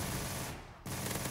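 A minigun firing in Black Ops 3 Zombies, a fast continuous rattle of shots that drops out briefly and then resumes, fairly quiet overall.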